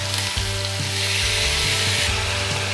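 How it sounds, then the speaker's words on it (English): Soaked basmati rice fries in ghee with mutton pieces and onions, sizzling loud and close in a continuous crackle with a few stirring scrapes and no talking. "You just have to fry the rice along with this mutton pieces till you get the nutty flavor from the rice."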